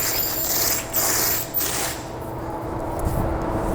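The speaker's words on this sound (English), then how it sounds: "I always like to pull the tarp loose and we can roll it up." A Conestoga Rolltite Verduyn Eagle tarp system is rolled up by hand, with steady rustling of the heavy tarp and faint mechanical clicking over a constant background rumble.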